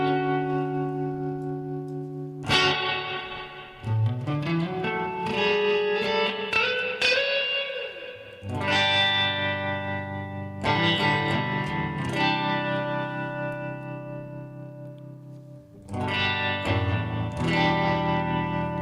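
Electric guitar through an amp with distortion and modulation effects rings out sustained chords and a bending lead note, each strum decaying before the next hits, heard alone.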